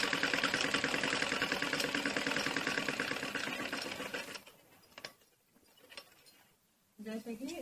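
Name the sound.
sewing machine stitching a khajuri salwar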